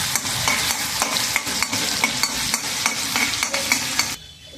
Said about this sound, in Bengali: আলুগুলো ফ্রাই হয়ে গেছে